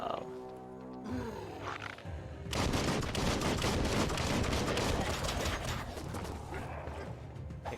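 Rapid gunfire in the action game Biomutant, loud and dense bursts blasting almost continuously after a quieter opening with musical tones.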